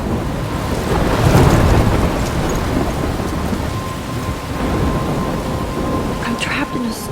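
Thunderstorm with steady heavy rain and rolling thunder in the video game Life Is Strange, a loud rumble building early and then a continuous downpour, with no talking.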